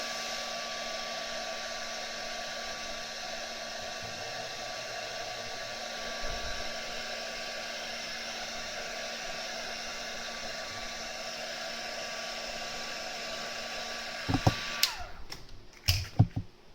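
A heat embossing tool blows steadily as it melts embossing powder on PaperClay, a constant close whirring hum that holds without a break, then cuts off near the end, followed by a few brief handling knocks.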